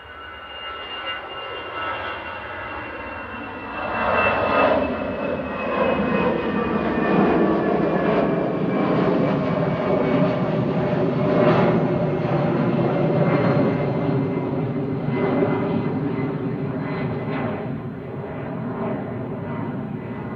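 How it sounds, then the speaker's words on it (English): A Brussels Airlines Airbus A319 departs Manchester Airport, its jet engine roar swelling from a distant rumble to a loud, sustained rush with a whining tone, then holding steady and slowly easing. "Brussels Airlines departing. This is OOSSU and A319 with flight 2184."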